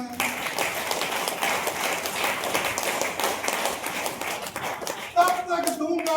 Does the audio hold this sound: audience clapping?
yes